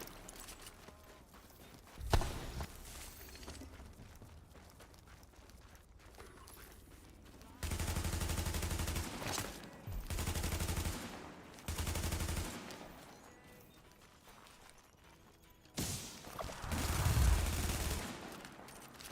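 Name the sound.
SMG gunfire in The Division video game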